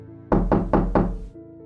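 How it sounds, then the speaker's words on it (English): Four heavy knocks on a door in quick succession, loud and close, with nothing else but a low hum beneath. "only to wake up to the knocking again"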